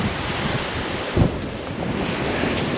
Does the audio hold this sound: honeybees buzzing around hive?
no